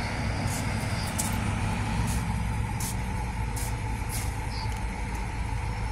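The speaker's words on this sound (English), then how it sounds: "Oh, you hear the engine. You hear the engine idle." A CNG-powered transit bus idles close by with a steady, low, rumbling drone and constant hum, while a few faint hissing and clicking sounds break through above it.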